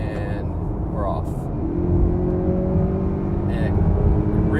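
A 2018 Honda Accord Touring in sport mode accelerates onto a highway, a steady, low engine growl and road rumble rising slightly in pitch, heard from inside the cabin and continuous throughout.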